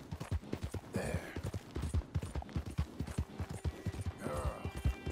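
Horse hooves clip-clopping in the video game Red Dead Redemption 2, a quick steady run of close thudding beats with brief snorting or whinny-like bursts mixed in.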